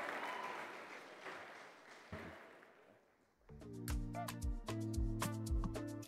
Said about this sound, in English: A round of applause as the gentleman rises up.